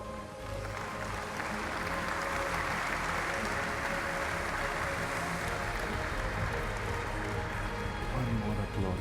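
Audience applause at an awards ceremony for President's Award winners, a dense steady wash of clapping from a large crowd that runs loud and unbroken throughout.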